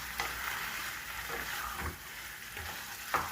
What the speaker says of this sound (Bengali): আর একটু কষবো, এখনও জলটা আছে।